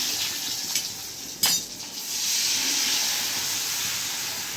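Chilies and asafoetida hitting hot oil while tempering kadhi, a loud steady hiss of sizzling with a sharp clatter of a utensil near the start, heard close and alone.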